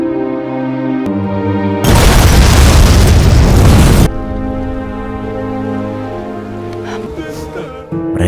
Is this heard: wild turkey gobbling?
no